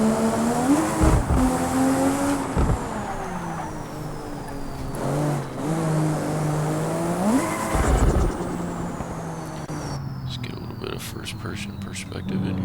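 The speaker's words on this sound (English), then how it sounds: "As soon as the turbo kicks in, this thing just kicks out sideways." Turbocharged car sliding sideways, engine note rising and falling through several revving sweeps with tire noise, someone talking loudly over it throughout.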